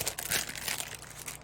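Sheet of paper being crumpled close by, a dense crackling rustle of crinkles bursting unevenly throughout, fairly quiet and with no voices.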